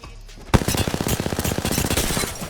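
The CAR SMG in Apex Legends fires a loud, rapid sustained burst, a dense rattle of shots that starts abruptly after a short quiet lead-in and keeps going to the end.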